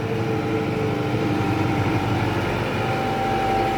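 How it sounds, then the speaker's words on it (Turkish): A tractor pulling a spring-tine plough through a sandy field left unploughed for fifteen years, its engine a steady, unbroken drone that stays close and fairly loud with no voices. "Fakat kumlu toprak olduğu için traktörü çok tutma yapmıyor. Çok rahat bir sürüm oluyor."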